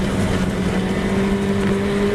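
Historic Formula Ford race cars lapping Silverstone, a steady loud engine drone with a sustained tonal whine holding through, close and continuous with no talk.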